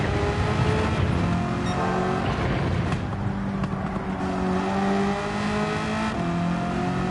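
A Spec 3 race car in Gran Turismo 7 drones and revs under gentle throttle, engine pitch rising and falling through gear changes in a steady, close, loud stream without speech.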